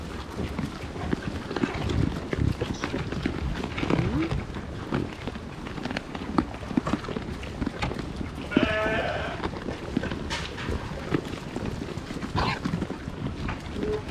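Sheep munching corn in a barn, close and continuous crunching and chewing with rustling, a single bleat breaking in midway.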